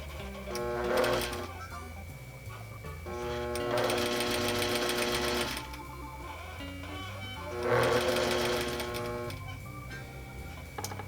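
A sewing machine stitches a rolled hem in several bursts, each running for a couple of seconds in a fast, even mechanical rattle with brief pauses between, close and clear with no talking.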